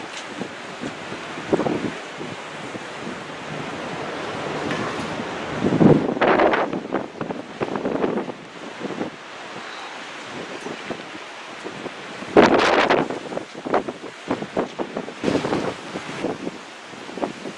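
Strong wind buffets the microphone in heavy gusts, roaring loudly at times over a constant rushing background, on a cold winter's day in Oban, Scotland.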